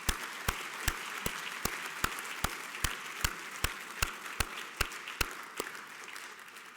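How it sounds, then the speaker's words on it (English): Applause at a data-to-action conference session, a soft crowd clapping underneath with sharp, evenly spaced loud claps repeating about every half second on top. "give them a big round of applause for these commitments"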